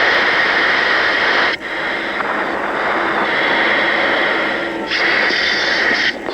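A T-45C Goshawk jet trainer's engine roars steadily and loudly during a touch and go, a sustained broadband jet whine with brief dips in intensity.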